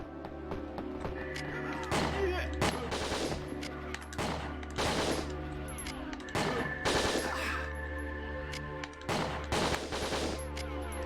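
Repeated bursts of gunfire from the video game Winback: Covert Operations, loud clustered shots in irregular volleys over a steady game background hum throughout.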